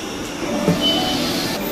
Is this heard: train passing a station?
yes